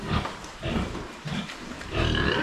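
Three farm pigs grunting and snorting close by in a pen, loud rough bursts in short irregular runs, with no talk over them.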